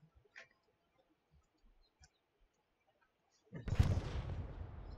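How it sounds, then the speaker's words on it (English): Artillery shells landing in the Hell Let Loose World War II shooter: after a few faint scattered clicks, a loud burst of explosions erupts and rumbles on as a sustained roar to the end. "Artillery is on point here from 107th, landing in amongst Tango."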